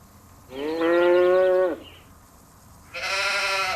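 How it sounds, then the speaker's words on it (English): An Allgäuer Braunvieh brown cow at a farm museum gives two loud, close moos, one long drawn-out low call followed after a pause by a second one starting, over quiet outdoor background. "That, for instance, is a brown cow called an Allgäuer Braunvieh."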